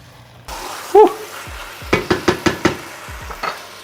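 Chicken biryani in a pot over high heat, stirred with a utensil: a brief scrape, then a run of five sharp clinking strokes against the pot over a low background sizzle, with one more knock near the end.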